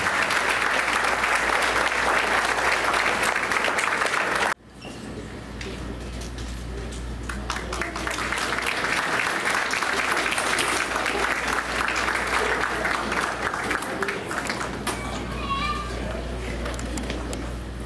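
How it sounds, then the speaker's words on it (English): Audience applause at a Board of Education meeting honouring retiree Ms. Clifford: loud sustained clapping breaks off sharply, then a second, slightly softer round carries on under scattered voices and children's chatter. "Once again, a round of applause for Ms. Clifford."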